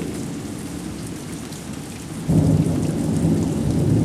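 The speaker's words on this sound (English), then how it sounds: "we just had a humongous thunderstorm hit us with tons of rain" A thunderstorm pours heavy rain in a constant loud hiss. Midway, a deep rumble of thunder swells and holds under the downpour.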